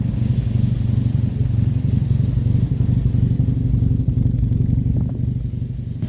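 Mazda MX5 NB track car with a custom fabricated exhaust, a steady low rumbling idle just after start-up, loud and close with a slight throb, no voices.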